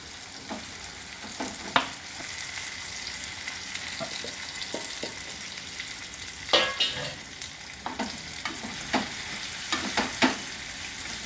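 Pointed gourd slices go into hot oil with fried spices, setting off a soft steady sizzle broken by clattering stirs and scrapes of a spatula against the pan, with no talking.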